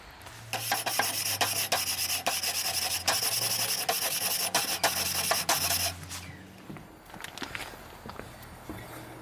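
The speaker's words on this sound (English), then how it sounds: "You really have to get a tool and scrape them a bit." A metal tool scrapes carbon off grill grates in rapid, rough rasping strokes for about six seconds, close and steady, then tapers into a few lighter scrapes and knocks.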